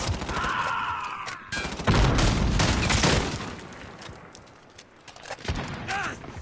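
Video game gunfire, bursts of rapid shots with busy overlapping crackle, loud and close, mixed with other game sounds and speech.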